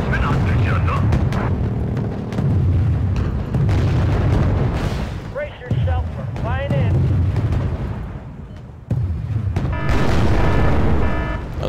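Explosions in Wargame: Red Dragon naval combat, with heavy booming blasts and rumbling detonations recurring through the clip, loud and close, with a voice talking over parts of it.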